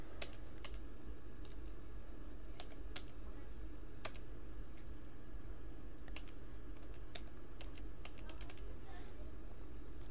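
Typing on a computer keyboard while entering a new username and password for a WiFi router login, with steady, irregular key clicks over low background hum and occasional faint bird calls.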